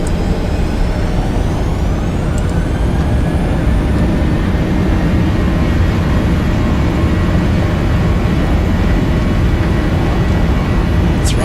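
Simulated Boeing 737-800 jet engines at takeoff thrust in Flight Simulator X roar loudly and continuously, a dense broadband rumble with a faint rising whine throughout and no talk.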